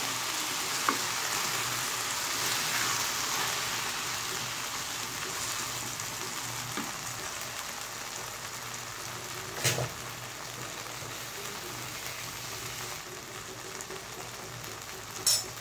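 Jute leaves and boiled lentils are stirred together in a pan, giving a soft continuous sizzle with light scraping and an occasional clink, close and steady.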